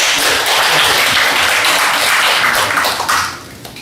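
A church congregation at a Wednesday worship service of elderly pastors applauds a pastor and his wife. The clapping is loud and dense, then drops off abruptly near the end.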